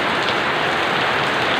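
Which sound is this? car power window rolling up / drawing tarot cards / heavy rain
heavy rain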